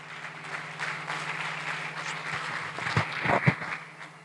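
A church congregation at a communion service applauds, a moderate wash of clapping with a low steady hum beneath and a few louder sharp claps near the end.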